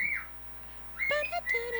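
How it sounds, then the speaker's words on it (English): A pet bird whistling a tune indoors, a clear near piping note, a short pause, then a quick run of bright warbling whistled notes at moderate volume, alone without talk. "Because not only is the bird whistling to this tune, but it's bebopping to it."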